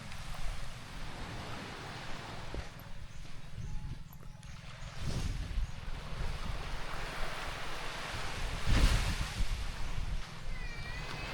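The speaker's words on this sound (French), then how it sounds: "Il y a le petit vent." A light sea breeze rustles softly by the shore on a Banggai island in Sulawesi, with gentle surf washing in the distance and occasional gusts brushing the microphone.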